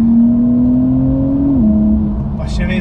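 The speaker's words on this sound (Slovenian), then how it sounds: "Pa še vedno odlično poje tale motor." A 2019 Porsche 911 Carrera S (992 generation, 450 hp) engine revs with a strong, steady tone that climbs, then drops and settles, loud and close throughout.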